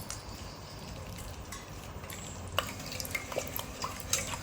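Curd being mixed by hand with ground spice powder for buttermilk chillies, a soft, continuous wet squishing and stirring texture with a few brief clinks and splashes, close by and moderately quiet, no talking.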